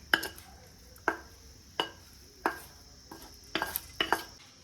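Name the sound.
mixing tempering into buttermilk rice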